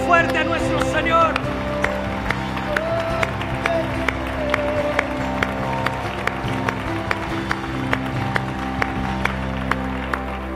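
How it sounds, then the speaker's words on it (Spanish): Church congregation giving loud applause to the Lord during a worship service, a crowd's clapping over sustained music with a regular beat running underneath. "Podemos dar un aplauso fuerte a nuestro Señor."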